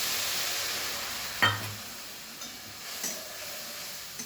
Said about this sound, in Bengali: মশলাটা আমি ভালো করে কষিয়ে নিচ্ছি